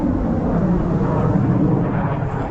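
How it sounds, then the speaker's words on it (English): A jet aircraft passes overhead as a loud, continuous, broad roar that holds steady for the whole stretch, with nothing else heard over it. "you can hear a jet, that's for sure"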